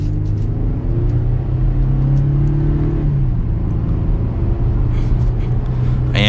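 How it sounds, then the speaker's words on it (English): A 2022 Chevrolet Colorado ZR2 pickup accelerates gently on the road, its engine giving a steady low rumble that rises and then drops in pitch as it gains speed, loud and close from inside. "give it a little bit of gas again. One last acceleration for today."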